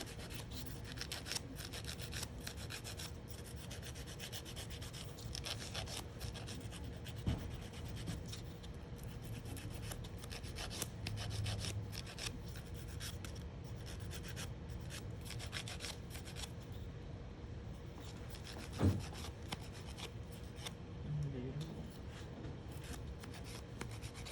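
A 100/180 grit nail file reshapes nails after crystals are removed, producing a soft, continuous rasping scrape with a steady rhythm, close but quiet, with an occasional light tap.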